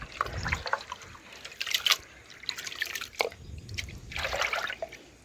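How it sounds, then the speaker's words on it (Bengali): Rice being rinsed by hand in a bowl of water at home, with soft splashing, trickling and dripping in several bursts, fairly quiet and close. "এ দেখুন আবারও জল দিয়ে দিচ্ছি। 3 থেকে 4 বার আমি ধুয়ে নেব।"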